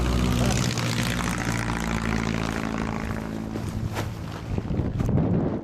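A propeller airplane flies near base jumpers in the Gorges de la Bourne, its steady loud engine drone and whirring propeller heard close under buffeting wind noise for the whole stretch.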